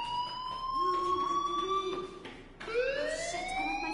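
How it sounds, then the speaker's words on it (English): A school fire alarm in the Life Is Strange game wails in loud, rising electronic sweeps, breaking off briefly and restarting with a fresh upward swoop, with no talking. "Hey, do you hear that fire alarm?"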